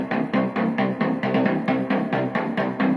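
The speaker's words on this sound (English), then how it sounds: "I really needed to get that classic Italo sound of a bass" A punchy, repeating layered Italo disco synth bassline pulses in a steady rhythmic pattern of short bright notes, loud and alone with no voices.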